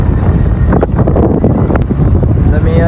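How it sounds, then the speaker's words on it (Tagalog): Loud, steady wind buffeting the microphone outdoors, a constant roar with gusty rumble throughout. "Lamiya sa hangin ay."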